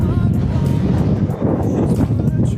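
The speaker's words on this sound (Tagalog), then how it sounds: "Ang lakas ng hangin." Strong, cold gusting wind buffeting the microphone outdoors in Jeju, a loud, constant low roar without pauses.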